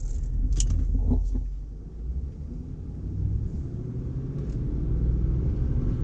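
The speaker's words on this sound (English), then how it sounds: "So you can kind of hear that supercharger." Low rumbling engine of a supercharged Jaguar XJR on the road, a steady drone heard from inside the car with a faint high supercharger whine, no talking.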